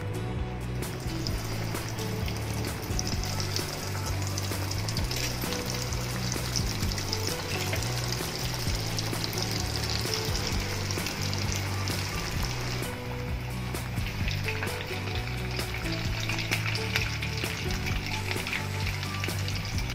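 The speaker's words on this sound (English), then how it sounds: "Now it's time to fry." Egg bombs coated in breadcrumbs deep frying in hot oil, a dense continuous bubbling sizzle lasting the whole stretch, close and steady with no talking.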